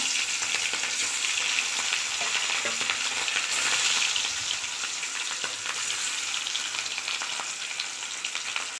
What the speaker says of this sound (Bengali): তেল গরম হয়ে গেল, মাছ ছেড়ে দিলাম।